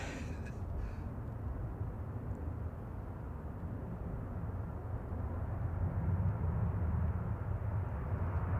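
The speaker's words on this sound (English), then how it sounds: "I've got a UPS 747 going over the top" A UPS Boeing 747 passes overhead near Manchester Airport as a faint, low broadband rumble that swells slightly toward the end, with no talking.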